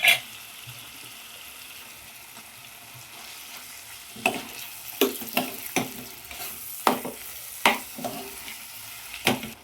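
A spoon scrapes and clacks against a pan as masala is stirred into a thick chicken gravy, irregular stirring strokes over a soft, steady sizzle.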